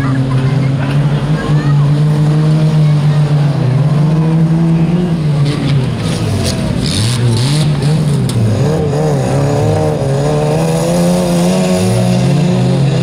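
A car driven up on three wheels during a charity stunt event roars loudly, its engine revving and straining continuously, while someone talks over it throughout.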